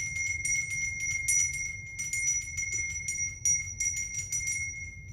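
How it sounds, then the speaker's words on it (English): A handmade bell rings repeatedly in quick, uneven bursts, bright and close, with a sustained metallic tone carrying between strikes over a low background hum. "I'm about to ring the bell."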